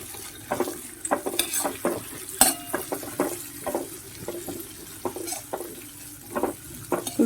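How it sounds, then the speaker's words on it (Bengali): Raw peanuts frying on a low flame in a pan, with a soft background sizzle and frequent short clicks and scrapes as a spoon stirs and tosses the nuts. "এবার এর মধ্যে আমি প্রথমে কাঁচা বাদামটা ভালো করে ভেজে নেব একদম লো ফ্লেমে ভাজতে হবে"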